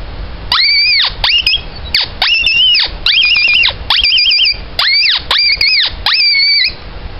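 A predator mouth call blown to imitate a wounded coyote gives eight loud, close, high-pitched wavering squeals, each lasting about half a second, separated by brief gaps, with no talking.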